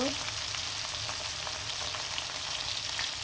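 Fish sizzling as it fries until red-browned in a pan, a steady dense crackle and hiss that runs continuously and up close throughout.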